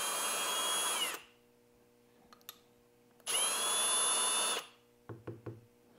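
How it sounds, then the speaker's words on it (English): A Milwaukee cordless drill spins a carbide primer pocket tool at low speed for rifle cartridge reloading, with two sustained whirring runs of about a second each separated by light clicks and knocks, then a few brief handling taps at the end. "I have this little carbide primer pocket tool chucked up in this Milwaukee cordless drill"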